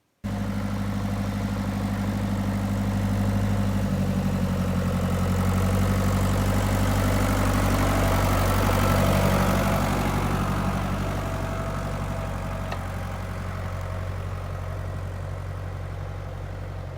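An old Heston tractor engine idles steadily for a long stretch, a low chugging rumble with a slight rise and fall, heard alone without voices.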